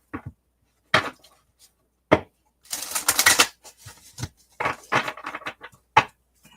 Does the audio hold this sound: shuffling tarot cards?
yes